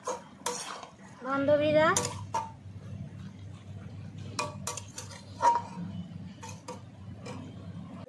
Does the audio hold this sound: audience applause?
no